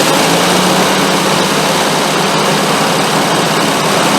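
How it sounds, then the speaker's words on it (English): Classic car engine fitted with SU carburettors, tuned during a restoration, running loud and close as a dense, steady roar with no pauses and no voices over it. "So like I said, the engine's going to start here. It's going to come up pretty fast, probably."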